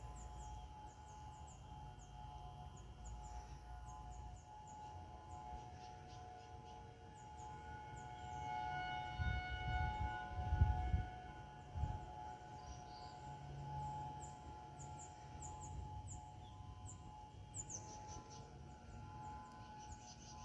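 Monthly flood siren test of civil defense sirens in New Braunfels, a faint, far-off sustained wail hanging over quiet outdoor ambience and swelling slightly midway, with no talking.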